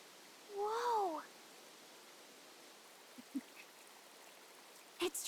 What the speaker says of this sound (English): Sounds like an open space. Could be a natural spring of some kind.